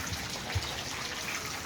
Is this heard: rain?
yes